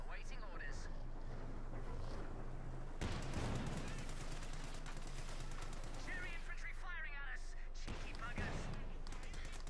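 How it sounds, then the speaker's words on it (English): An AC Mark III armored car bombarding pioneers in Company of Heroes 2, a strategy game battle, with clusters of sharp shots and impacts at around three and eight seconds, faint and distant, under a commentator talking. "Pioneers being bombarded there by the AC Mark III."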